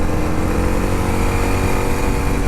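A Honda XR650L dual-sport motorcycle, a 2023 model, cruising in third gear on the road, its engine a steady loud drone mixed with wind buffeting, constant throughout without any spoken voice.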